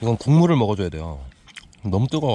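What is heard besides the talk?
No everyday noise stands out behind the speech.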